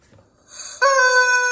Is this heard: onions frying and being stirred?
no